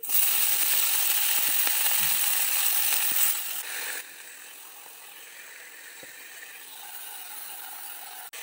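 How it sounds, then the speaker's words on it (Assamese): Leafy greens dropped into hot oil and frying, a loud dense sizzle that eases to a softer steady hiss after a few seconds, close and with no voice. "এতিয়া মই শাকখিনি দি দিম"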